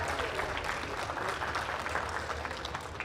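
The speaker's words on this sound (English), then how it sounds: "Let's give this young man a round of applause on a job well done." An audience at a 2023 school district sheep and goat livestock show applauds a young exhibitor, with a steady, fairly faint round of clapping heard from a distance.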